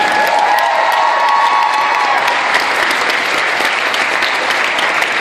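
Sustained applause with some cheering from a crowd at a St. Louis Cardinals Caravan fan event, honoring pitcher Joe Kelly; steady, dense clapping fills the room throughout with no pauses.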